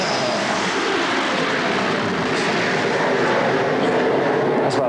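A propeller-driven training aircraft takes off at an RAF flying school in 1981, its engine a steady, loud drone filling the whole stretch with no pauses or talk.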